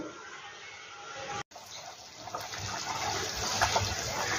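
Pot of potatoes boiling before paneer goes in, a steady bubbling, hissing simmer that grows slightly busier, broken by one brief dropout, with no talking.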